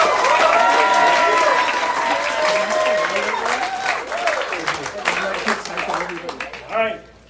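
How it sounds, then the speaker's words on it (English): Crowd applause and some cheering after a gathering song at a totem pole unveiling, loud at first and then thinning, with voices and shouts over the clapping and a whoop near the end. "give them a big round of applause"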